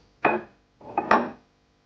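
A spoon stirs a teaspoon of salt and two of sugar in a bowl, making two short scraping, rubbing strokes a moment apart, close and clear in a quiet room.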